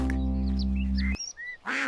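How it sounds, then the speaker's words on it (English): A cartoon duck gives a frightened, quick quack in an animated nursery rhyme, a couple of short calls following a sustained musical tone that cuts off, close and fairly loud. "He heard a quack that sounded scared."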